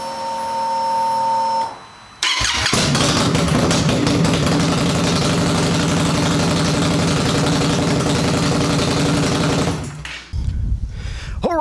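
A 2019 Indian Scout Bobber fitted with a Radiant Cycles GP Shorty slip-on exhaust starts after a brief electrical whine, then settles into a loud, close, steady rumbling idle for several seconds before shutting off.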